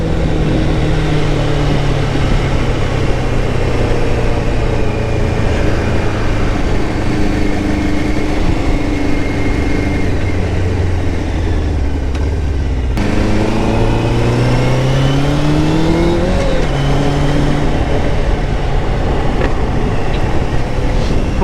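A Honda CBR600 motorcycle runs at speed, with steady engine drone and pitch shifts through gear changes, all buried under loud, constant wind roar.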